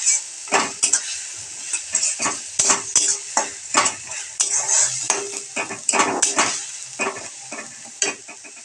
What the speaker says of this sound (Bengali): মশলাটাকে ভালোভাবে কষিয়ে নিতে হবে যতক্ষণ অবধি তেল থাকে।